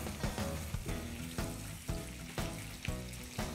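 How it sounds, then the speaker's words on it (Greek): Apples with granulated sugar sizzle and fry steadily in a frying pan as they caramelize, with regular stirring strokes and scrapes cutting through the constant close sizzle. "τα μήλα μαγειρεύονται εδώ πέρα στο τηγάνι"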